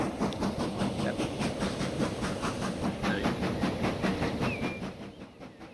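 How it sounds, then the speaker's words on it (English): A train runs along the rails in the game Transport Fever 2, a steady rolling rumble with regular clickety-clack beats over a faint hiss, fading slightly at the end. "I'm just going to watch our train"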